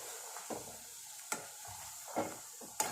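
A piece of onion fries in heating oil, giving a faint, steady sizzle with soft crackles and a few sharp clicks that pop out at irregular moments.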